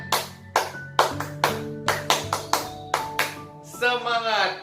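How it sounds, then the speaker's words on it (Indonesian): Children do a rhythmic spirit clap in a classroom storytelling session, a patterned series of sharp group claps with chanted voices, ending in a shouted cheer. "tepuk semangat."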